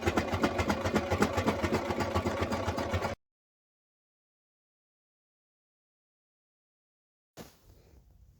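A sewing machine stitches a curtain pocket with a fast, steady mechanical whir for about three seconds, then stops into silence before a brief faint restart of motor hum near the end.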